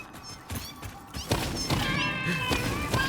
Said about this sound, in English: I hear the little meow.